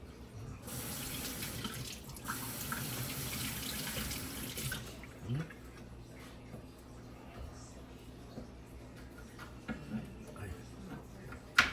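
Tap water runs into a kitchen sink while carrot pieces are rinsed, a steady broadband stream for about five seconds that then stops, followed by quieter clinks and handling noises near the basin.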